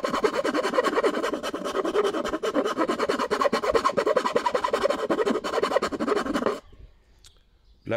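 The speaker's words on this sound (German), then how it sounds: "Ihr müsst nämlich jetzt wirklich feilen." A small hand file rasps steadily against a workpiece, rapid scraping strokes close and fairly loud for about six and a half seconds, then stopping into near silence.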